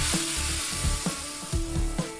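Spice tempering for doddapatre tambuli crackles in hot oil in a South Indian kitchen, close and lively, with several sharp pops and spits over a continuous sizzle.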